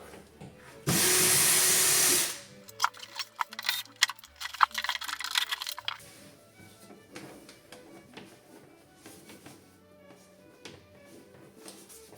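A power screwdriver backs screws out during installation of an Atlantic self-adjusting ventilation unit with its roof cap. One loud, close whirring burst lasts about a second and a half, followed by clattering taps and handling noises.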